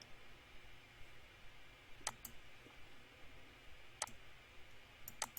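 Sharp computer mouse clicks come at about 2, 4 and 5.2 seconds, a few single and double clicks close by over a faint steady room hiss, with no talking.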